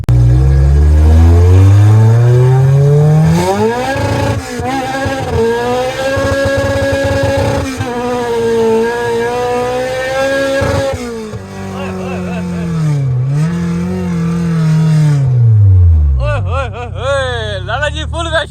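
Car fitted with a K20 engine revving hard and accelerating, its pitch climbing and dropping through the gears, loud and close, with a voice talking over part of it.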